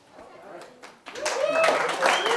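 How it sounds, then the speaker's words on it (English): Scattered claps build into a burst of audience applause at a comedy and magic show, with some voices mixed in. "Don't clap for that."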